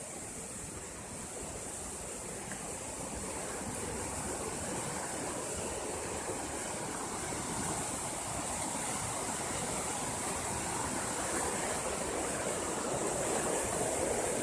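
A thin stream of water trickles past a wall outdoors, a steady broadband rush and hiss that holds constant and fairly close throughout, with no voices.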